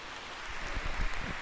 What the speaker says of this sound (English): And it is raining pretty hard now.